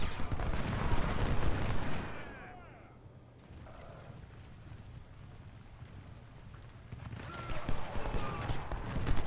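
Artillery fire in the Civil War strategy game Ultimate General: Civil War, heard as loud, broad booming bursts at the start and again near the end, with a quieter rumbling battlefield stretch in between.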